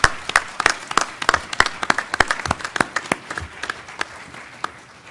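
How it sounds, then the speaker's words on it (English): An audience applauds a conference panel in a hall, with a steady burst of many hands clapping close and loud, individual claps standing out, fading slightly toward the end. "So I would ask you to join me in a round of applause for this panel."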